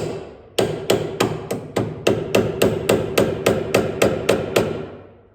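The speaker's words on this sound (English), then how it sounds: "I just hammered the screwdriver in there." A screwdriver driven with a hammer into the steering shaft joint of a BMW E36 Z3 during steering rack replacement, about fourteen sharp metallic blows at a steady rapid rhythm, loud and close, each ringing briefly.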